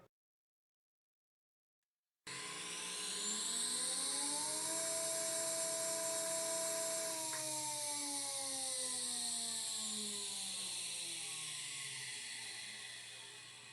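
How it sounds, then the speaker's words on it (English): A DIY CNC machine's spindle starts up with a steady mechanical whine that ramps in pitch, holds, then shifts lower. It is loud and close, with no talking. "Let me try to turn on the spindle."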